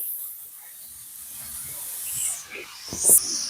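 Tomatoes go into peas, carrots and onion frying in a pan for masala dosa filling: a faint high hiss of steam and sizzle, with soft clatter of a spoon near the end.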